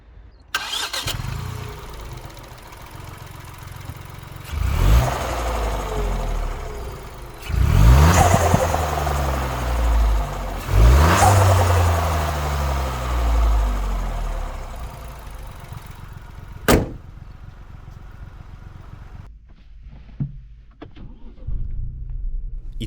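A Ford Fiesta ST's 1.5 EcoBoost three-cylinder turbo engine fires up, settles to idle, then revs sharply several times before cutting off, close and loud.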